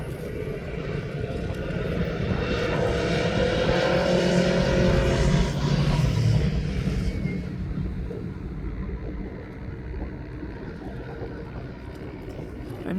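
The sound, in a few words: Jet2 airliner taxiing towards runway 9 at East Midlands Airport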